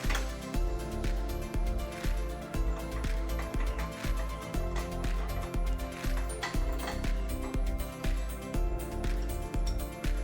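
Ratchet tightening the bolts on an IAG Off Road Capable bumper grill guard, a steady run of rapid clicking pawl strokes that continues throughout, close and fairly loud with no voices.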